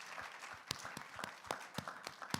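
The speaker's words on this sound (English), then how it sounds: "Let's give Target a round of applause." Scattered applause from a conference audience at the AAMA 2023 Target session, a thin patter of separate claps that stays fairly quiet and never builds into a full ovation.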